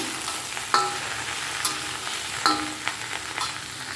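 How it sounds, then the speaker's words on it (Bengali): Steady crackling sizzle of okra frying with salt and turmeric in a kadai, with a few sharp scraping clinks of stirring scattered through; no voices. "দিয়ে ভালো করে একটু ভেজে নিব"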